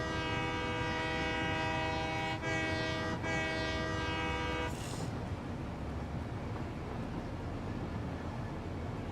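A train horn in the Satisfactory video game blares as a long, steady harmonic blast for several seconds, briefly wavering, then gives way to the continuous broadband rumble of the rolling train, with no voices.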